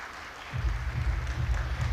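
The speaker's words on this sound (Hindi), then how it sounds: "तालियां बजती रहनी चाहिए," An audience at a school annual function breaks into applause partway through, a muffled, steady patter of many hands clapping heard from a distance through a dull hall mic.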